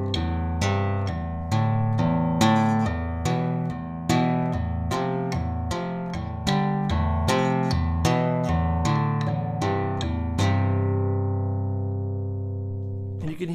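An acoustic guitar plays a steady progression of plucked notes and chords with pull-offs in an even rhythm, ending on a long ringing chord that slowly decays.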